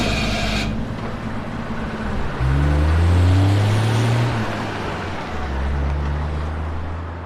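A car that has sat unused for a long time revs its engine and accelerates. A steady low rumble surges louder and deeper partway through, then eases back. No one speaks.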